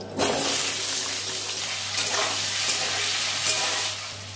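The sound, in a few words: potatoes frying in mustard oil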